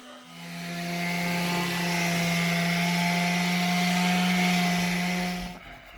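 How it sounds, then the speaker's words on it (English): A power sander runs with a steady motor hum and whir on an uneven wall with patched holes and a glue texture. It sounds loud and close for about five seconds, then cuts off. "the sander I'm using in this video"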